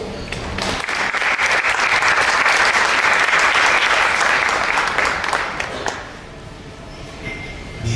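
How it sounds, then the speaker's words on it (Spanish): Loud, sustained audience applause fills a hall at a talk on the Bhagavad-Gita, swelling for several seconds and then tapering off near the end. "Lo dejo entonces con Prabhu Nirantara, un fuerte aplauso"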